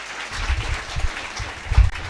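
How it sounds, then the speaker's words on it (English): Conference audience applauding, a short burst of irregular hand claps from a room full of people, moderately loud and brief. "So you need to be clapping more hard."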